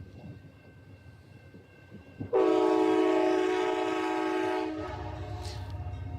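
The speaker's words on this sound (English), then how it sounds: "Matter of fact, you are about to see Amtrak." An Amtrak passenger train passing at night sounds a loud, sustained multi-tone horn for about two seconds, then the rumble of the passing train fades out.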